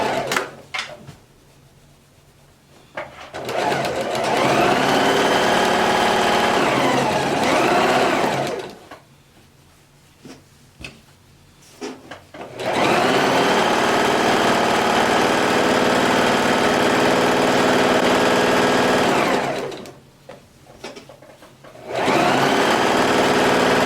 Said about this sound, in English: So all the way around on your sewing machine